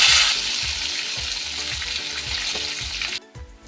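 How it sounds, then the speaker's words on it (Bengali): Eggplant pieces frying in hot mustard oil, a dense, close hiss and crackle of sizzling with faint rhythmic tapping beneath, cutting off abruptly near the end. "এবার দেব বেগুনগুলো আমি লাল লাল করে ভেজে নেব।"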